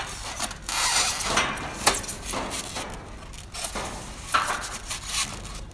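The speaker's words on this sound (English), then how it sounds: "So what I'm doing now is I'm offering the column up to the 50 post." A decorative metal fence column being offered up to a 50 post with back straps, giving irregular metallic knocks, scrapes and rattles of parts shifted into position, close and moderately quiet with no speech.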